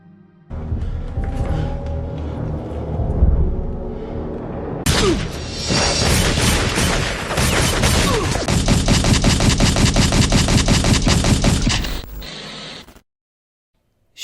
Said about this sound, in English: Shooting this Beretta is an okay experience, almost leaning on the side of being unremarkable though.